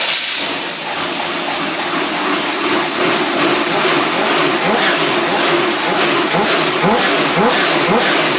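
A car engine on a carburetor choke check is revved hard, producing a loud, continuous roar with a hissing, rushing edge. The sound stays sustained at high intensity throughout.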